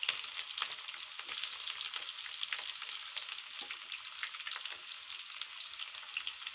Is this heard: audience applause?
no